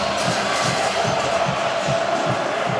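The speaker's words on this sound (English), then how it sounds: "This crowd has really come to life" A college football stadium crowd roars in a dense, continuous wash of cheering from a shirtless student section, loud and sustained without letup.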